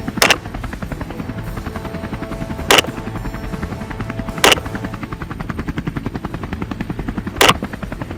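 Four sharp, loud gunshots ring out at irregular intervals from a helicopter-mounted gun during an aerial wild boar hunt, each crack standing out over the constant pulsing drone of the helicopter's rotor.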